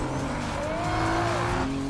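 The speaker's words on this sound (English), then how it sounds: "Slapjack hits a nitrous button. Blue flame roars from the exhaust." A street race car fires its nitrous and surges forward. The engine roars loud and steady as the pitch climbs, with tire squeal and rushing noise layered over it and no talking.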